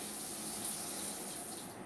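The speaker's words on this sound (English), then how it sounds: "We're going to add the hot water to our cornmeal mixture." Hot boiling water pours steadily into a cornmeal mixture for hot water corn bread, a soft continuous splashing gush heard close and alone.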